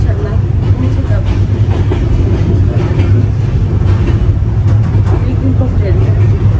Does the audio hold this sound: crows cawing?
no